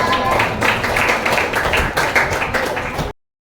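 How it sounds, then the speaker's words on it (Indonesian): A room of students claps for a classmate at a school lesson observation, a dense burst of hand claps lasting about three seconds before stopping abruptly into silence. "Beri tepuk tangan untuk Rasya"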